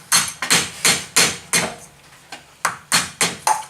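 Sharp metallic hammer strikes, about ten blows in an uneven rhythm with a brief pause midway, close and loud, driving a bearing seal into place on a 2005 GMC Sierra 1500 4x4.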